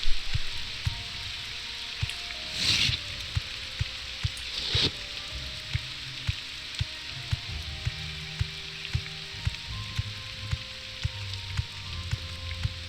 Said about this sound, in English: Get into the Ashlands and maybe the rain will stop